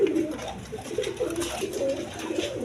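Quality pigeons at a seller's coo over and over in soft, rolling, low calls. The birds are close and several overlap in an uneven rhythm, with no clear speech.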